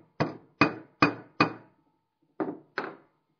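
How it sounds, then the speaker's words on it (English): Hammer gently tapping a spring pin into an axle, six sharp close metallic taps: four evenly spaced, a short pause, then two more, with nothing else audible. "And just gently tapping it in with your hammer."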